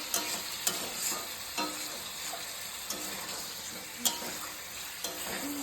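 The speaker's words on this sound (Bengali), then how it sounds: "দেখো আমাদের সুন্দরী বৌদি কাতলা মাছের তরকারি রান্না করছে" Katla fish curry cooking in a pan, a continuous soft sizzle of frying with repeated scraping clicks of a spoon stirring at an irregular rhythm, close and fairly quiet.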